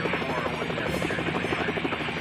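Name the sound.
helicopter in video game Helicopter Simulator 2014: Search and Rescue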